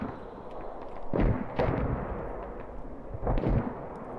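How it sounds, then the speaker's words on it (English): Mortar shells land in a military video game match, giving several muffled, booming blasts at moderate distance, spaced irregularly over a low rumbling background. "VAC mortars landing on Alcora"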